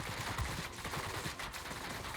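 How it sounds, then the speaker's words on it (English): A dense burst of rapid gunfire strikes a Ki-162-III jet in a combat flight video game, the hits crackling loud and continuous over roaring noise for a couple of seconds. "I'm getting shot everywhere."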